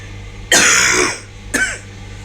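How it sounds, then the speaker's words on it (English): Two dry coughs close to the microphone, a longer harsh one followed by a shorter one after a brief pause. "I have a bad sort of dry cough thing."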